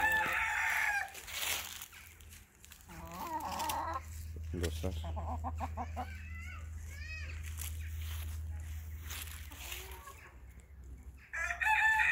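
Ornamental-breed roosters crow nearby while chickens cluck around them, and a voice speaks briefly in Turkish over the birds.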